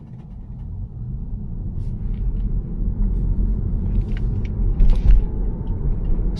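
Tesla Model 3 cruising city streets in Irvine on Full Self Driving, a steady low road rumble and tyre drone with faint creaks, continuous and close, no talk.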